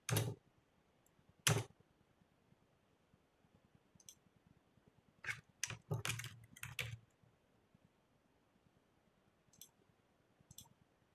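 Sparse keystrokes click on a computer keyboard, a few isolated taps early on, then a quick cluster of clicks midway and scattered faint ticks afterward, close and dry in a quiet room.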